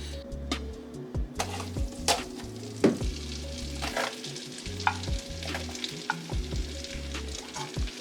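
Onions frying in butter and olive oil for a Japanese-style crab curry: a continuous sizzle with frequent clanks and scrapes of a utensil stirring the pan, close and lively.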